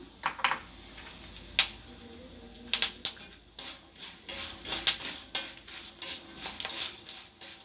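Cumin seeds crackle and sizzle in hot oil, with scattered sharp pops and a few scrapes of a spoon stirring the pan.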